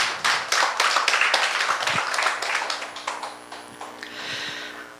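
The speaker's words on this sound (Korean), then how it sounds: "우리 주님께 영광의 박수를 한번 돌려드릴게요" A church congregation claps during a Sunday worship service, a dense burst of many hands that thins and fades toward the end.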